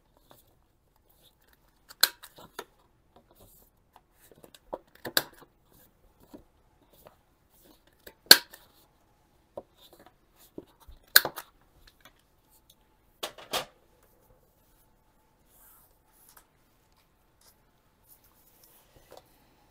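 Scissors cutting to round off the corners of a piece so it fits into a lid, with sparse, sharp, quiet snips spaced a few seconds apart over near silence.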